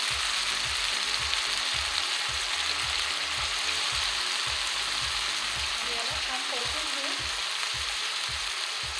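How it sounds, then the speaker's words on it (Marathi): Spring onion greens fry in a pan for a Bhogi vegetable dish, giving a steady sizzle with rhythmic scraping stirs throughout, close and alone. "थोडी कांद्याची पात आपण परतून टाकणार आहे"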